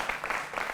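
A studio audience at a televised Lok Sabha election results debate gives a short, dense burst of steady applause that sounds full and fairly loud.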